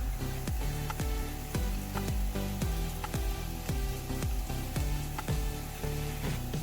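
Vegetables with soy sauce and green chilli sauce sauté in a pan for a soup, making a steady sizzle broken by regular scraping stirs at close range, with no talking.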